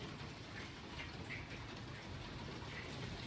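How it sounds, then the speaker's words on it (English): Hail falling outdoors makes a steady, dense patter that stays fairly faint and even throughout, with no voices. "Wow, now it's hail."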